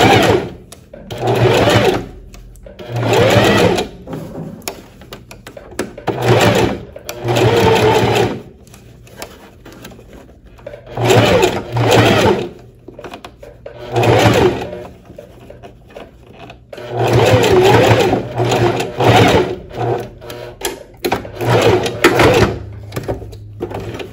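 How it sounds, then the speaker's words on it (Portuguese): Domestic sewing machine topstitching an inner reinforcement seam along a blouse's high neckline, running in repeated bursts of a few seconds each with short pauses between, close and fairly loud, no talking. "Fazer a costura aqui de pesponto do outro lado do decote."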